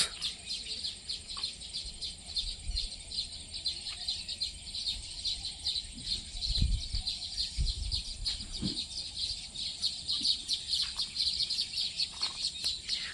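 Many birds chirp and tweet near a lake at Ishwariya Park in Rajkot, a dense, continuous high chatter at moderate distance over faint low background noise, with no one speaking.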